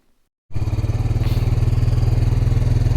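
An off-road motorcycle engine at a campground in an OHV area starts up after half a second of silence, then idles loud and close with a steady, throbbing pulse that builds slightly.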